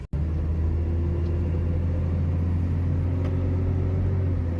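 A 1989 Jeep Comanche Eliminator pickup cruising along, its steady low engine rumble and road drone holding constant and close throughout, with no talking.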